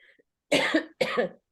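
Two sharp, close coughs in quick succession from one person, separated by a short pause, preceded by a faint noise in an otherwise quiet room.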